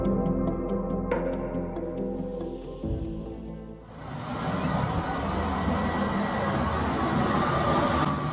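A train on a narrow-gauge mountain railway rumbles along with a low engine drone, then a loud roaring rush of wheels and track noise swells up, continuous and close.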